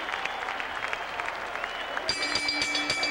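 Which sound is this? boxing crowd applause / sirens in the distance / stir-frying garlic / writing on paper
boxing crowd applause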